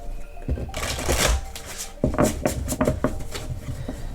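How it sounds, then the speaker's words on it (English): Decks of cards being shuffled by hand, with quick riffling bursts and soft flutters in two main rounds, close and fairly quiet with a few light taps in between. "I guess I'm not supposed to shuffle these decks."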